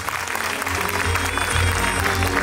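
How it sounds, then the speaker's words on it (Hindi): At the opening ceremony of a dance show, an audience claps steadily and fairly loudly, a continuous round of applause from a crowded hall. "तालियां हो जाए।"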